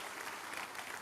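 A church congregation at a midweek communion service claps together as an offering of praise, a dense, even wash of applause heard fairly faint and somewhat distant.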